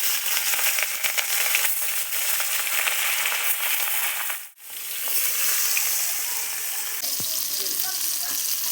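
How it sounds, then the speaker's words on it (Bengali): Pieces of rohu fish frying in hot mustard oil give a steady, loud, crackling sizzle that fills the whole stretch, dipping briefly once midway before resuming at full strength. "তেলটা গরম হয়ে গেছে, এখন আমি মাছগুলো এক এক করে ভেজে নেব।"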